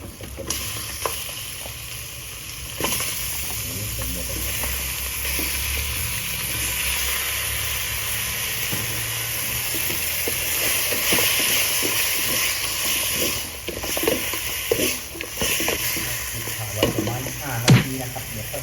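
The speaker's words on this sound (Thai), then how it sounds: "ผมผัดไปได้ห้านาที" Curry paste and chicken bones stir-fried in a pan, a continuous loud sizzle with scraping and clacking of the spatula against the pan, irregular knocks growing toward the end.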